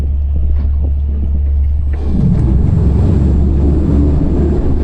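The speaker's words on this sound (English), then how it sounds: "Something else that these boats do extremely well, much akin to an electric car, is accelerate. They accelerate like crazy." An electric boat sits nearly still with a low, steady rumble, then accelerates hard from standstill as a loud, sudden surge of rushing water and hull noise takes over and holds strong to the end.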